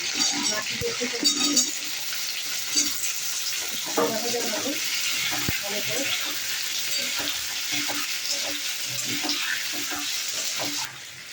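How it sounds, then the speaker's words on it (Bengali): Bay leaf, a dried red chilli, cumin and ginger sizzle and crackle in hot oil for tempering, a steady frying hiss with occasional stirring scrapes and clinks throughout. "তেজপাতা সম্বরে দিলাম, একটা শুকনো লঙ্কা, জিরে, আদা দিয়ে ফোড়নে দিলাম।"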